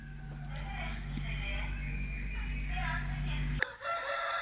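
A rooster crows amid a busy coop with buff hens and other fowl, ending in a brief clatter near the end.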